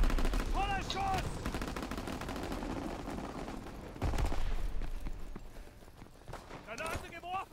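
Gunfire in the PC open beta of Call of Duty WWII: scattered shots crack through a busy battle mix, with a sharper burst midway, while voices talk over the action.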